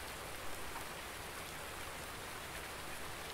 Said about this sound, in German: Und dass der Regen mal aufhört.